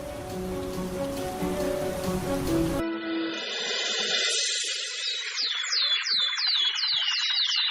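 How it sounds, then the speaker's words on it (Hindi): A cartoon sound effect of heavy rain gives a dense, loud, steady hiss for about three seconds. It then cuts to a quieter scene of high chirping calls. "कुछ दूर चलने पर ही जोर जोर से बारिश होने लगती है।"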